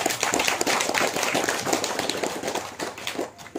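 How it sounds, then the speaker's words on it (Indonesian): Audience applause at a Toraja Mamasa church ceremony marking a congregation's founding: dense, crackling hand claps from a crowd, sustained and moderately loud, tapering slightly near the end. "Tepuk tangan."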